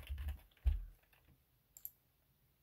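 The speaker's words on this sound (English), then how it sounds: "I can type here." Someone types on a computer keyboard in a few short bursts of clicks, then pauses before a couple of isolated keystrokes, all close and fairly quiet.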